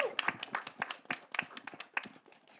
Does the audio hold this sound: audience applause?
yes